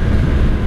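A 1983 Honda Sabre VF750S motorcycle engine drones steadily during a ride, a close, loud low rumble mixed with wind roar and no voices.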